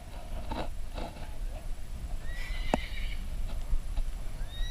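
A horse near a road on a motorcycle loop through Magdalena, Majayjay and Lucban gives a short whinny and some clopping against a steady background hum, without talk.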